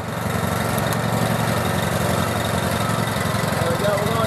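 A BCS 852 walk-behind tractor engine runs steadily while the machine moves forward, a loud, close, even mechanical drone with a constant low rumble.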